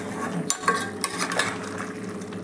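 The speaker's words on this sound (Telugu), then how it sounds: "కలబెట్టుకోవాలి." A spoon stirs mutton curry in a cooking pot, with scattered scraping and clinking against the metal over a soft sizzle, close and fairly quiet.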